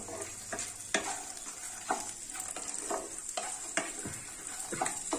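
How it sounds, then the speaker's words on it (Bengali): Dry fruit laddoo mixture is stirred in a pan, a quiet soft sizzle punctuated by repeated spatula scrapes and taps at an uneven rhythm. "এটাও একটু নাড়াচাড়া করে নেব"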